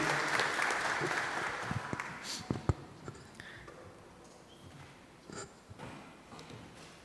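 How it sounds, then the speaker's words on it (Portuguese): Applause from the audience at a public hearing marking World Autism Awareness Day, fairly faint and sparse clapping that fades out, with a few louder knocks and handling noises in the room. "Uma salva de palmas, por gentileza."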